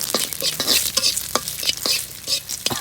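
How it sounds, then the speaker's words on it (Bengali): Dried red chillies fry in a hot pan with a steady sizzle, broken by repeated stirring scrapes at a loose rhythm. The sound is close and fairly loud, and no one speaks. "আমি শুকনো মরিচ শাক দিয়ে খাওয়ার জন্য ভেজে নেব"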